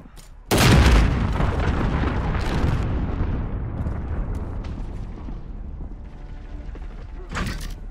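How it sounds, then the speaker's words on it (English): An enemy cruise missile explodes in a military video game, a sudden loud boom that rolls on into a long rumbling decay, with a fainter impact near the end. "Enemy cruise missile."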